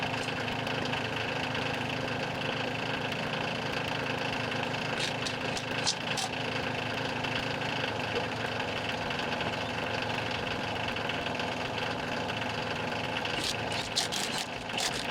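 Engine of a $200 abandoned junkyard muscle car running at a rough idle, a steady low, knocking drone heard from close by, with a few faint metallic clicks and taps over it.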